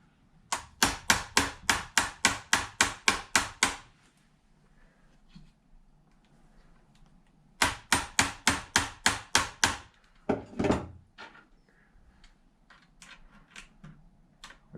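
Quick, evenly spaced hammer taps ring out in two bursts of about a dozen strikes each while working on a damaged Traxxas X-Maxx 8S RC truck, followed by scattered lighter knocks and clicks.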